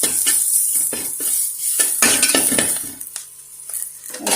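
Turmeric and coriander powder are stirred together in a pan, with a spoon clinking and scraping against the metal in quick, repeated strokes over a faint sizzle.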